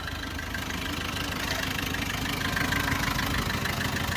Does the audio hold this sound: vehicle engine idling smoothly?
yes